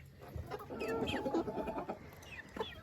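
A rooster clucks and grumbles nearby in a poultry yard, with soft low chatter from other fowl, at moderate volume.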